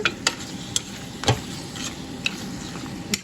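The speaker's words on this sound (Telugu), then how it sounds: "కొంచెము మీట్ బ్రౌన్ అయ్యే వరకు మనము ఒక ఫోర్ మినిట్స్ అలా మనం దీన్ని ఫ్రై అవ్వనిద్దామన్నమాట" Mutton pieces frying in a pan until browned, a soft steady sizzle with occasional sharp clicks and scrapes of a spoon against the pan, close and moderately loud, no voices.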